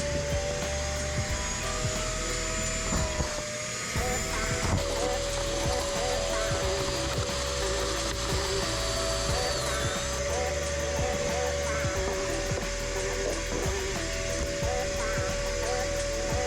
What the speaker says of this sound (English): I used my vacuum cleaner to pick out the debris